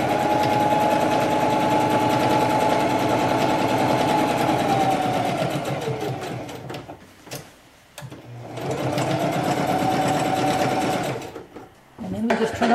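A sewing machine basting pins and fabric around the edge of an art banner runs in long steady bursts with a steady whir, pausing briefly twice before starting again, with no talking over it.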